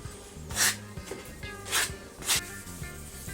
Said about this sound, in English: sanding down board with sandpaper using your hand